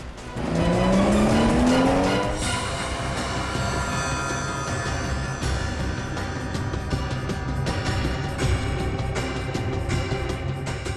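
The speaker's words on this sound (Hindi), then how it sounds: "ये गाड़ी इतनी तेज क्यों भगा रहा है अचानक?" A car speeds hard with screeching tires, a rising squeal in the first seconds giving way to a loud, sustained engine and road roar that fills the scene without a break.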